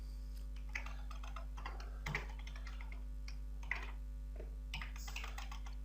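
Keys on a computer keyboard clatter in faint, irregular bursts of clicks, with a steady electrical hum running beneath.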